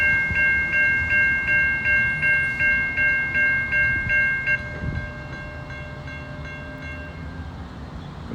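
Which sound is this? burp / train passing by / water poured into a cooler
train passing by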